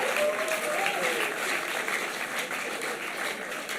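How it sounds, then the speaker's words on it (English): An audience at a hymn performance applauds in a dense, continuous patter that fades slightly toward the end, with a voice briefly audible over the clapping. "You deserve a round of applause."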